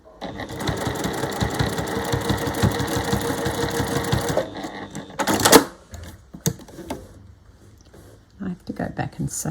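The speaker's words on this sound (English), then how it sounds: "And sew this down because I didn't catch it." Sewing machine stitching bunting fabric, a rapid rhythmic clatter for about four seconds before stopping, followed by handling noises and quiet clicks.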